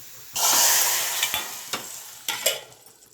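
A sudden loud sizzle as tempering with onion hits hot oil, crackling and fading, with a few sharp clinks of a spoon and a second burst of sizzling.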